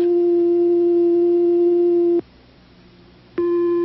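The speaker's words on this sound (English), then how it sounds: "This is a sine wave." A steady electronic tone hums loudly for about two seconds, cuts out briefly, then returns at a slightly different pitch.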